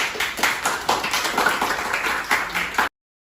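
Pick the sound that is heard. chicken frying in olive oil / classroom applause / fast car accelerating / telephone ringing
classroom applause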